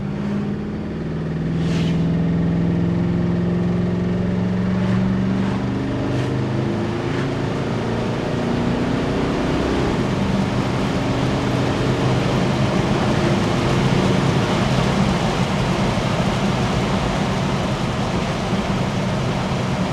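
A 1965 Ford Fairlane with a 289 V8 hums steadily while cruising at town speeds on 15-inch radial tires, a continuous loud engine drone with road noise and no talking.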